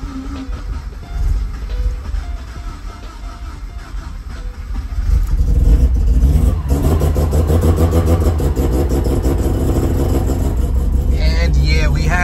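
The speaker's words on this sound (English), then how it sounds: "we have crank, we have start. This thing is idling" A Mazda 13B rotary engine swapped into a Subaru BRZ cranks, catches and settles into a loud, steady idle with a lumpy low rumble, and people talk close by over the engine.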